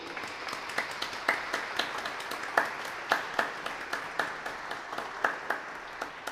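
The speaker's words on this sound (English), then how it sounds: "Please give them an applause." An audience applauds in a church setting, scattered individual claps standing out from a soft, steady patter of clapping that continues evenly throughout.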